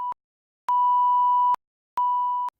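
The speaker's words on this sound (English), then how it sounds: "you can hear a sine wave tone" Pure sine tones from a self-oscillating resonant filter in VCV Rack modular synth software, three steady beeps of varying length separated by silence, clean and clear.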